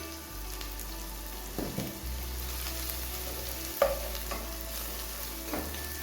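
Masala frying in a pan with salt and turmeric: a soft steady sizzle under periodic scraping strokes of a spoon against the pan, close and without speech.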